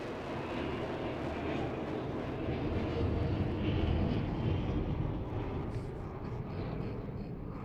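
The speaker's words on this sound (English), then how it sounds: "And here he'll fly by 180 kilometers an hour." A plane flies past at about 180 km/h, a continuous broadband roar that swells slightly in the middle and holds steady, loud and close, with no talk over it.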